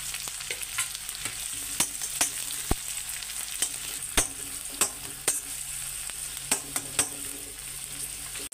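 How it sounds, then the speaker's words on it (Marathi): Garlic and onion frying in hot oil in a home kitchen while making veg noodles: a steady sizzle with intermittent sharp clinks of a spoon stirring in the pan, close and clear, without talk. "याच्यामध्ये लगेचच कांदा टाकून घेणार आहे।"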